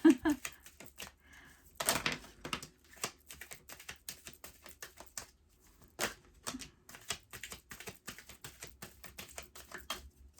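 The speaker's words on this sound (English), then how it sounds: "I want to shuffle a little first." Crisp rapid riffling and tapping of tarot cards being shuffled, in short irregular bursts with brief pauses, close and fairly quiet.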